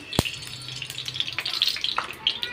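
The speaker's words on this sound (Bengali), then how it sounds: "এই তো তেল গরম হয়ে গেল, রান্না বসিয়ে দিয়ে মাছটা ভাজিয়ে নিই আগে" Fish frying in hot oil in a wok, close crackling and spattering pops over a faint hiss, with a brief knock at the start and no talk.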